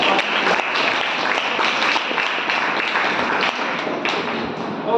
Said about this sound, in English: So first of all, clap for yourself.